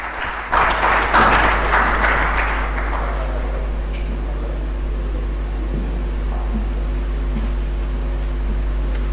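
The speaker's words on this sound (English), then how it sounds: "Please give her a round of applause." Applause greeting a speaker at a Ghanaian government economic briefing, a brief burst of clapping at the start that fades quickly into a steady hum of room noise and electrical drone.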